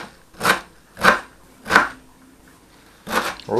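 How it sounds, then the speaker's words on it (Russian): A knife chops green onion and dill for a salad, giving four crisp, separate strokes on a board with short pauses between them, heard close and on their own. "И последнее нам осталось нарезать"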